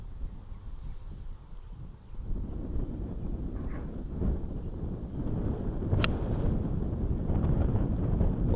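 Strong wind of about 20 mph sweeps across an open golf course, roaring and buffeting the microphone in a continuous broadband rush that grows louder, with one sharp click partway through.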